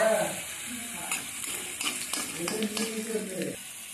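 Cinnamon sticks, small cardamom pods and dried red chillies frying in hot oil for an amla pickle, a steady close sizzle with some stirring clatter and a brief voice at the start.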